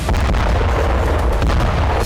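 Dense, rumbling booms and blasts from Israeli military strikes on Gaza overlap continuously, a heavy roar of explosions with sharp bursts cutting through the low thunder.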